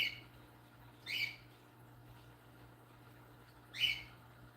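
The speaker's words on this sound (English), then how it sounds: "All I can hear is my bird tweeting in the other room." A pet bird tweets from another room, giving two brief, faint high chirps about a second and then nearly three seconds apart over a low steady hum, with no one talking.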